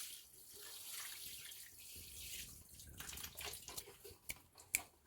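Water is poured gently over seed-starting potting soil, trickling and splashing softly for a few seconds with a few brighter drips near the end, faint and close.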